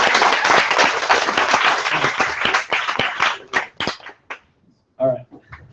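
Lecture-hall audience at a graphic design talk claps loudly, a thick burst of applause that thins into scattered claps and fades, with a voice speaking near the end.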